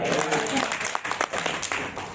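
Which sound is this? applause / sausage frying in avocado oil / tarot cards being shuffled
applause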